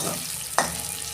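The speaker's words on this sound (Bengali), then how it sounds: "চাল কুমড়োটা ভাজা ভাজা হয়ে গেছে" Pieces of ash gourd frying in oil, a continuous close sizzle with one brief clink partway through.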